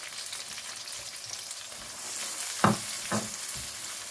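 Tomato and garlic paste goes into browned onions frying in a pan, giving a steady hiss. Two louder sizzling bursts follow as it is stirred in, with no talking.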